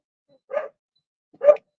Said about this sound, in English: My dog is barking out the window.